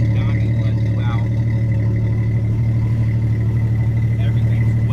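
A deep, steady aftermarket exhaust rumble from an idling Jeep Cherokee with 58,000 miles, low and throbbing, with faint talking over it.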